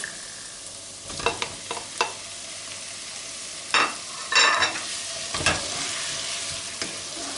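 Tomatoes stir-fry with peppers and onions in a pan as beef kavurma is prepared, giving a steady soft sizzle broken by scattered scrapes and clinks of a utensil against the pan. No one speaks.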